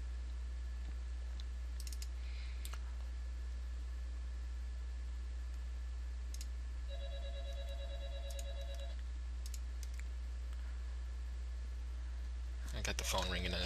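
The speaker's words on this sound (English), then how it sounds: "I got the phone ringing in the background here," A telephone rings twice in the background of a quiet room, a pair of short electronic trills in the middle, while keyboard clicks sound now and then over steady hum and a louder burst comes at the end.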